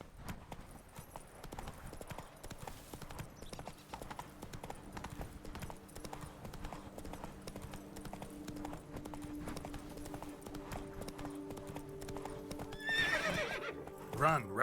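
The horse Roach galloping in The Witcher 3, a steady clip-clop of hooves with a whinny near the end, set under game music and a voice speaking.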